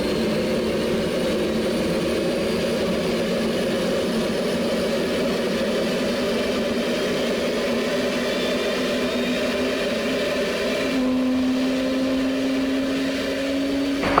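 Concorde jet engines running steadily at the stand during pushback, a loud continuous roar with a droning tone that holds through, with a brief steady whine appearing near the end.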